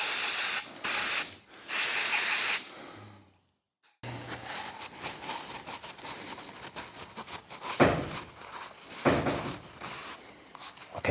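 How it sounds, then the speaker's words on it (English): Aerosol brake cleaner sprayed onto a blackened filter during a VW Caddy Mk4 brake and clutch fluid flush: two loud, close hissing bursts, a short silence, then quieter clicks and handling noises. "I'm going to give that a spray of just some brake cleaner"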